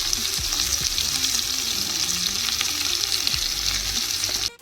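Onion frying in ghee, a dense close sizzle with occasional stirring scrapes, continuous until it cuts off abruptly at the end.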